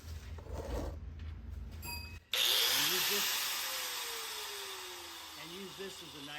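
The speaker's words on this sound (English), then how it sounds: "then you're just going to take your grinder" Grinder trimming the edge of a live-edge wood slab clamped to a table: after a brief quiet moment, a loud whining tool starts abruptly and runs continuously, its pitch gradually sagging as it bites into the wood.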